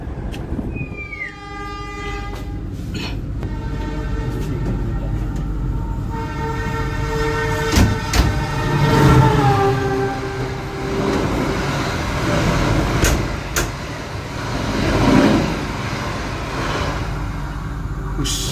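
The Argo Wilis express train sounds its horn with sustained tones, then rumbles loudly through Nganjuk station, Indonesia, at speed, wheels clattering and rattling before fading slightly.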